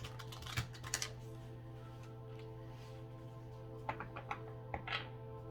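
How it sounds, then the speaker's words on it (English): Oracle cards being shuffled by hand in small groups of three, heard as a few soft clustered riffling clicks near the start and again near the end over a steady low hum. "I just shuffle by threes and then we cut."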